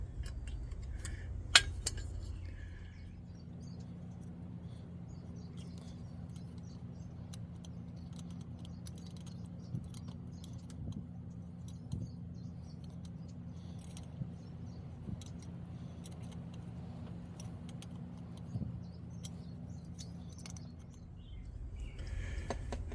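Needle nose pliers turn a threaded fitting out of a vintage Primus torch, giving scattered small metallic clicks and scrapes, close and fairly quiet, over a steady low hum.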